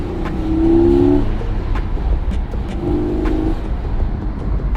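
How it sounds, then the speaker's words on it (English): A Porsche 718 Cayman GTS engine rumbles steadily from inside the cabin, with brief rising revs and whines near the start and again in the middle. "I love Porsches for the sound mostly."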